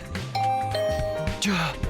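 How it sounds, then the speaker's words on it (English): A digital two-tone doorbell chime in a video game rings out clearly, a bright ding-dong over a soft background hum and music. "the doorbell rang"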